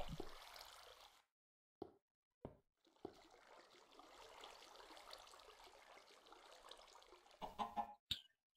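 A chicken clucks in the Minecraft video game, with short bursts early on, then a steady busy stretch and a few sharp sounds near the end. It is fairly faint, with no talking.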